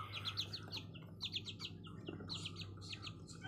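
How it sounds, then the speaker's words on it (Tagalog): Chicks chirp outdoors in quick bursts of high, thin peeps, coming in clusters a few times over a low background hum, fairly close and with no talking. "Tingnan mo yung isang sisiw."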